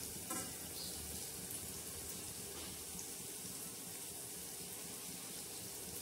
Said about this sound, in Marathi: आपण हे चक्कीतलं पाणी गाळून टाकणार आहोत।